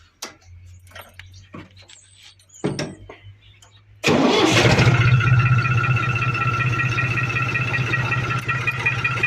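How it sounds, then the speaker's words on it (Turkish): Tractor engine cranks and catches after some faint clicks and handling noises, then settles into a loud, steady, close-up diesel-like running idle that continues to the end. "traktörümüzü çalıştıralım."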